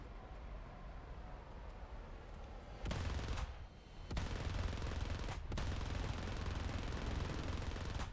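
Aircraft cannon fire on a strafing gun run in the War Thunder combat game, heard as dense sustained bursts of rapid gunfire that swell louder midway, with engine roar underneath and no voices.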